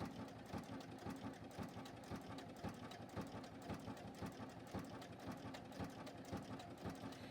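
A JUKI sewing machine stitches around the edge of a pet Halloween costume, its fast, even mechanical chatter running continuously and fairly faint throughout.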